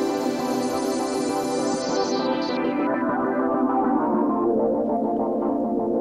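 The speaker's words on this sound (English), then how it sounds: "So we got an auto filter going on here." A dense, sustained synth chord with an auto filter sweeping downward, its bright upper tones gradually closing off into a darker, muffled tone over several seconds, loud and steady with no voices.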